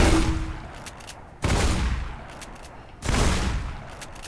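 Gunfire in the video game Mirror's Edge, three loud close bursts of rapid shots spaced about a second and a half apart, each decaying into a rattling tail, with no voices.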